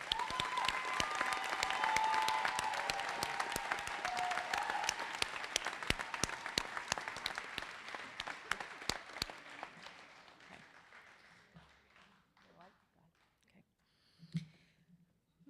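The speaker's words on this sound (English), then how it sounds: "please give a round of applause for Porter Campus" An audience at a winter nursing pinning ceremony breaks into sustained applause, dense and loud at first, then thinning out and fading over several seconds until only a few scattered claps remain.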